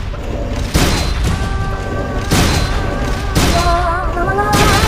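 Heavy gunfire booms in a mock battle against Zeke in Metal Gear Solid: Peace Walker, loud repeated blasts roughly once a second over a dense, rumbling game soundscape with ringing electronic tones.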